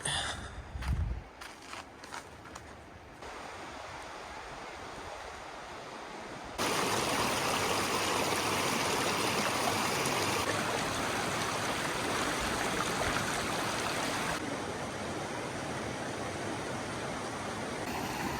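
A creek flows steadily downstream near the Bootlegger picnic area in Arizona, its broad rushing wash swelling louder midway and holding close and continuous, with a few footsteps and rustles early on.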